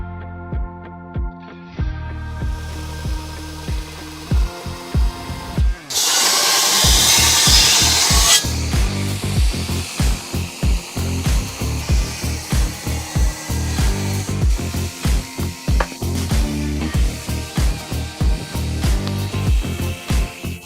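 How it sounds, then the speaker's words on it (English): A metal blade is sharpened by hand with 280 grit sandpaper in repeated rhythmic rasping strokes, close and fairly loud, after a brief burst of louder grinding noise, with no talking. "I'll give it its final sharpness with the 280 grit sandpaper"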